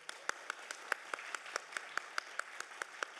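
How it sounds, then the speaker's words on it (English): A small audience claps for Janet at a sustainability summit award presentation, with sparse, evenly spaced hand claps ringing out in a steady rhythm, fairly quiet and slightly distant. "Let's give a round of applause."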